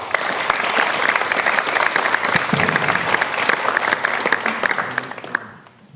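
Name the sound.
audience applause for speaker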